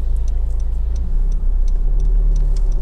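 A 2012 Honda Civic 2.2 i-DTEC ES five-door diesel on a road test gives a steady, loud low engine and road drone from inside the cabin, with faint regular ticking over it.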